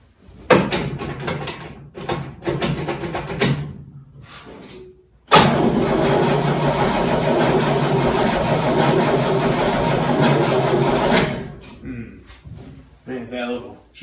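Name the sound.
1969 Firebird engine cranking and starting after nearly 20 years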